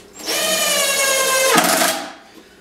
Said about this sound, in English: I'll be drilling two holes up and one down and work myself from center out